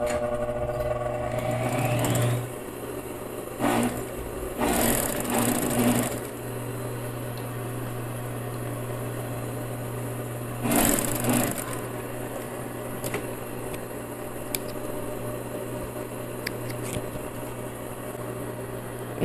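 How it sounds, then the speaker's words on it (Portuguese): A straight-stitch sewing machine running small stitches through lycra bikini fabric, several short bursts of motor whir separated by pauses over a constant background hum. "lycra, na máquina reta, o ponto ele tem que ser bem pequeno para não arrebentar"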